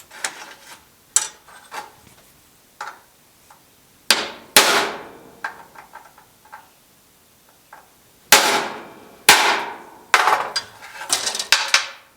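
Sharp metallic hammer strikes on a center punch against rivets on a GTO door, ringing out in single blows and quick clusters with pauses between, close and loud, without any talking.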